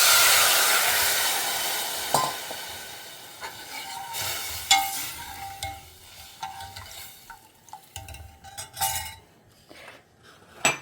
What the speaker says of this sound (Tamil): பச்சை மிளகாயை நல்லாவே எண்ணெயில் பொரிய விட்டேல்